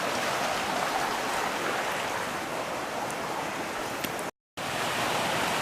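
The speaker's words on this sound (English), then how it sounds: "You got pretty fast flowing water." Fast-flowing stream water near Sycamore Reservoir on Mount Lemmon, a dense, steady broadband rush, close and loud, with no voices and only a brief gap near the end.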